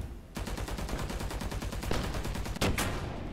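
Rapid automatic gunfire in the War Thunder video game, an April Fools event pitting exoskeleton combat suits against tanks: a dense, steady burst of closely spaced shots running throughout, with a couple of louder heavier blasts near the end.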